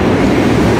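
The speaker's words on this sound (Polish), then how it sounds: "Zaraz wjazd Intercity." An Intercity train pulling into Wrocław Główny station, a loud, steady rumble and roar of rolling stock close by, continuous for under a second with no voices.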